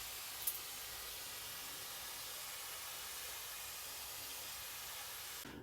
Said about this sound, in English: we'll make sure we give this a really good watering